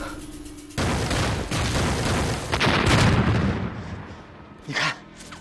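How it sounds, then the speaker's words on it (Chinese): Gunfire in a war drama set during the anti-Japanese resistance: a dense, loud burst of rapid shots and booms runs for several seconds, easing off, then one more sharp crack near the end. "我跟黑山说过，让他别开枪的"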